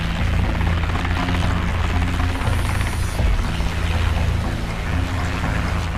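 A Boeing CH-47 Chinook twin-rotor, twin-engine helicopter roars continuously over water, loud and close, its dense rotor wash and engine drone steady throughout.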